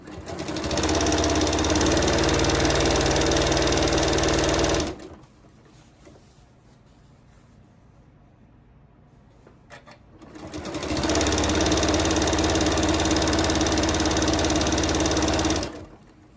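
Sewing machine piecing strips of a strip heart quilt, two loud sustained bursts of fast close stitching separated by a quiet pause of several seconds.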